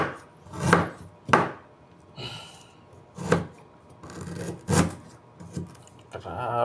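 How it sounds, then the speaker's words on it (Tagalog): Ginger being chopped with a knife: about five sharp, separate chops spaced irregularly, with quieter scraping between them, close and fairly clear. "Luya naman."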